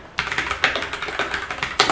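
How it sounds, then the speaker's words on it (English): Brisk, close typing on a Keychron K6 mechanical keyboard, with a quick run of loud, undampened key clacks and a few heavier strokes at the start and end. "If you like typing, you will actually enjoy typing in this keyboard."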